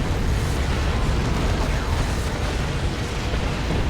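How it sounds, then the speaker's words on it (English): Orbital bombardment in Warhammer 40,000: Dawn of War 2 during a 3v3 battle, a dense, continuous roar of overlapping explosions and rumbling blasts, loud and sustained throughout without clear breaks. "Here comes an orbital bombardment"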